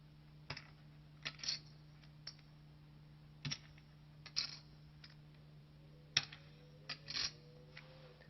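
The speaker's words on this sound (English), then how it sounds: "The chips start to intermix, and you lift your fingers up." Poker chips are shuffled by hand, giving quiet, sharp clacks of stacked chips knocking together in small irregular bursts, each a second or so apart, with no voices.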